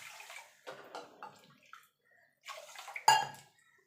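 Water is poured from a vessel onto sugar in a pot for making syrup, several short splashy pours separated by pauses, ending with a sharper clatter of the container.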